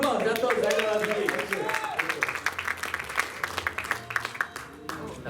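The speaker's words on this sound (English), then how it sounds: "Ladies and gentlemen, give him a round of applause" Audience applause at the KL JAMM music festival as a singer is welcomed, a steady crowd clapping under a loud voice, with claps thinning out toward the end.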